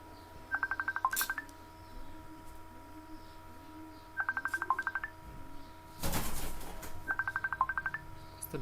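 An incoming call on a phone rings three times in short repeating trills with pauses between them, clear and steady over a low background hum, with a brief burst of rustling noise before the last ring.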